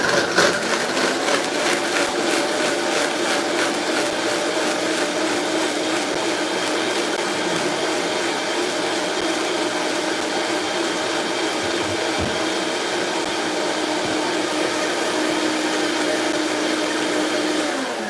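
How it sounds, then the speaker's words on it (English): A countertop blender whirs continuously through salad ingredients and water, a steady loud motor drone with a few brief dips in pitch as the load shifts, with no talking over it. "so we're gonna blend this up"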